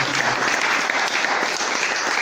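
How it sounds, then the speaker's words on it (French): Studio audience giving an invited guest loud, sustained applause, dense clapping from many hands filling the whole moment without pause. "je vous demande d'applaudir bien fort notre invité d'aujourd'hui"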